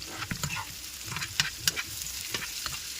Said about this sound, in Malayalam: അങ്ങനെ സവാള എല്ലാവരും ഇട്ടിട്ടുണ്ടെങ്കിൽ അത് നമുക്ക് ഇളക്കി കൊടുക്കണം